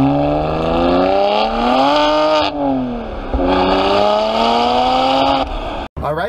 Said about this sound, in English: So we're running the car here just so the oil can warm up.